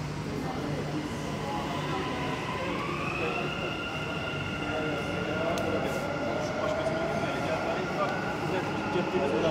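Dubai metro train running with a steady loud rumble and rising, sliding tonal whine of motors, continuous throughout with faint voices underneath.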